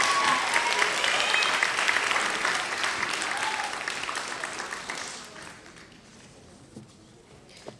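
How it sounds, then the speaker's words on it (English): Audience at a middle school academic awards ceremony claps for a student honoree, a full burst of many hands that fades out after about five seconds, leaving a quiet room with a few stray sounds. "you guys started clapping really quick"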